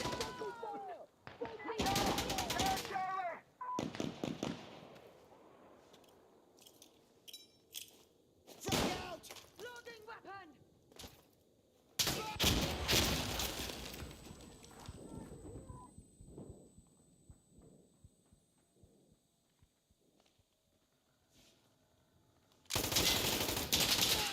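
Gunfire in the online multiplayer shooter Insurgency: Sandstorm on Xbox Series X: loud, sharp bursts of rapid automatic fire break out several times, separated by quieter stretches with faint distant shots and rattles.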